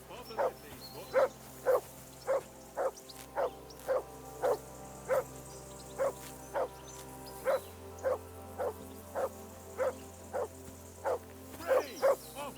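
A dog in Kingdom Come: Deliverance II barks steadily in evenly spaced single woofs for over twelve seconds, moderately close, over a low ambient hum.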